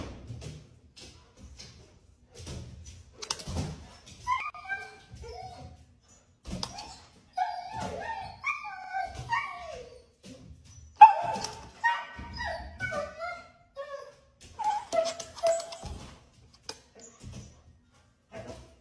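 A dog whimpering and whining in high, wavering cries, broken by occasional short barks and yips, close by with pauses between bursts and no talk.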